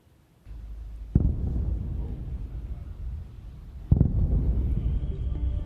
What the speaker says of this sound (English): As explosions rang out in the capital city of Kyiv,